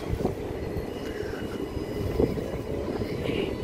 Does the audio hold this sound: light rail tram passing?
yes